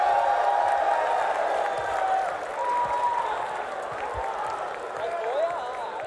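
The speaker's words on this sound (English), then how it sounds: "Who is booing?" A live audience booing, a dense sustained crowd roar with whistles and jeers that stays loud and steady throughout.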